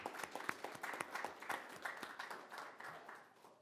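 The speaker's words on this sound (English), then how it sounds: "I think you deserve a round of applause." Applause at a city council meeting, a short burst of many hands clapping in a room, moderately close and steady before gradually tapering off.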